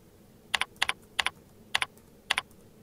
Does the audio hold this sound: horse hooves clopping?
no